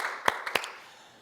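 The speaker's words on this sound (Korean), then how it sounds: "우리 하나님께 영광의 박수 올리겠습니다." A few scattered, close hand claps from a church congregation during a Sunday worship service, three or four sharp isolated claps fading into quiet.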